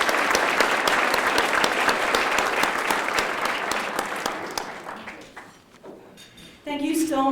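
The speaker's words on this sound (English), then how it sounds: "And now a big round of applause for all our reunion groups." Audience applause at an alumni awards banquet honoring reunion groups, a dense sustained clapping from a large room that slowly thins and fades, followed by a brief voice at the end.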